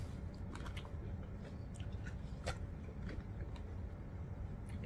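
Someone bites into and chews a pickle beside a meal of shish taouk, fries and kebab, producing close, soft crunchy bites and wet chewing clicks at an irregular pace with no talking.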